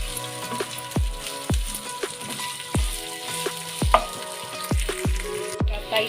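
Besan bhindi sizzling in a pan while being mixed, with a steady fry hiss and repeated rhythmic knocks of a spoon against the pan, close and fairly loud, with no voices.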